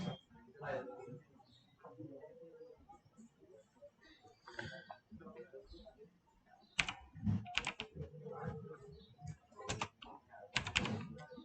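An item name typed on a computer keyboard: bursts of quick, close key clicks at first under a voice in Hindi, then a denser run of typing as the talk drops away.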